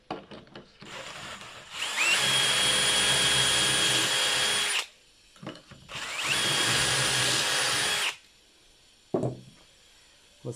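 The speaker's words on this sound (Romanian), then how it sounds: "Acum o să încep să găuresc piesele." A power drill bores holes into wooden pieces for a bed in two long, loud, steady runs, each a few seconds long. The drilling is close by, with brief quiet handling noises between and after the runs.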